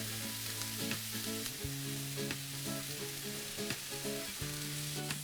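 Apples with Greek currants, a pinch of salt and brown sugar sizzle and bubble in a pan as they are stirred, giving a steady close frying hiss layered with faint humming tones and soft spoon scrapes.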